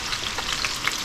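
Vegetables cooking under a lid in a pan on medium-high heat, a dense, even sizzle with faint crackles, steady and close, no voices.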